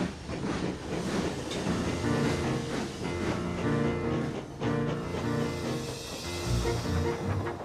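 A steam train pulls out, rumbling steadily with rhythmic clanking and rolling wheel noise, loud and close, continuing throughout without voices.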